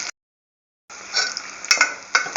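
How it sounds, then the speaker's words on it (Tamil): Onions fry in a pan for a Tamil ridge gourd thuvaiyal, a steady sizzle broken by short scraping stirs and metallic clinks of a spoon against the pan, close and moderately loud after a brief silent gap. "ஒரு 2 நிமிஷம் இந்த வெங்காயத்தை நல்லா வறுத்துட்டு"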